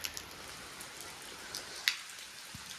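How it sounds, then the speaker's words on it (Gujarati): Light rain just beginning to fall onto neem tree leaves outdoors, heard as sparse scattered drops and ticks over a soft hiss, with one sharper drop near the middle and no talk. "હજી છાંટા ચાલુ થયા છે"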